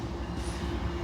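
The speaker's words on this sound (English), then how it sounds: "Giant train coming down the tracks." A large freight train rolls down the tracks near an Indiana public auto auction lot, giving a continuous low rumble with rhythmic wheel clatter, steady and moderately close, with no talking.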